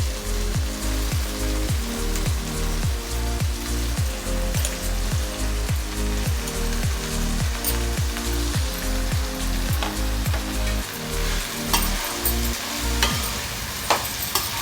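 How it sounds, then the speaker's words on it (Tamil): Mixed vegetables such as brinjal, okra and gooseberry sauté in a pan for a 21-vegetable sambar, a steady close sizzle with repeated rhythmic scraping strokes of stirring throughout. "எல்லா காயும் நம்ம சேர்த்து நல்லா வதக்கிக்குங்க"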